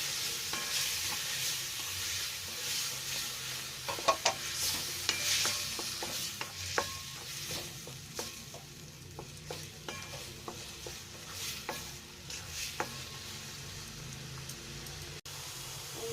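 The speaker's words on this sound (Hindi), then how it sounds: "इन सबको अब हम अच्छे से फ्राई कर लेंगे" Spices with coriander powder, turmeric and salt frying in a pan for stuffed karela. The sizzle is steady and close, and a spoon scrapes and stirs through it with repeated soft clinks.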